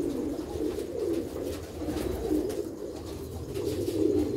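Sialkoti pearl-eyed pigeons for sale coo steadily and close by, a low, rolling, continuous cooing with no talk over it.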